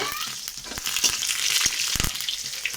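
Green chillies and five-spice (panch phoron) spluttering in hot oil in a pan, a busy close sizzle with sharp pops and crackles throughout.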